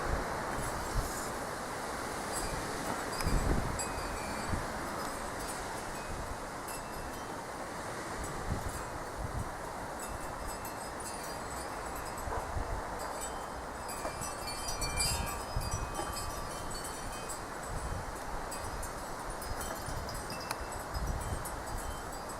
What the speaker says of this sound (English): It's a bit on the breezy side.